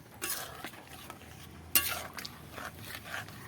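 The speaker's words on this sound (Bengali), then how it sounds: "এটাকে আমি একটু নাড়াচাড়া করে নেব" A dhaba-style curry being stirred in a pan, a spoon scraping and clinking against the metal in several uneven strokes with a sharper knock midway, close and fairly quiet over a faint simmer.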